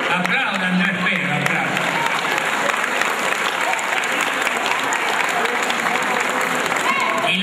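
An audience at a town anniversary celebration in Viamonte, Córdoba applauds, a dense, steady wall of clapping that holds at full strength throughout, with crowd voices mixed in.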